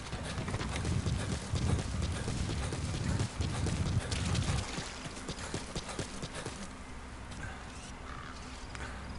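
A horse gallops in Metal Gear Solid V: The Phantom Pain, its hooves giving a steady, continuous clip-clop over a dense background of game ambience that eases off in the second half.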